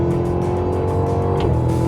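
A 2023 Cadillac Escalade-V downshifts and accelerates, its engine roaring loudly and steadily from inside the cabin. A tonal, sustained growl carries through the short stretch without any talking.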